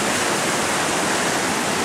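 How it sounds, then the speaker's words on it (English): A forest waterfall rushes in a dense, steady roar of broadband white water, loud and constant with no voices, heard close to the falling water. "we're off to a waterfall"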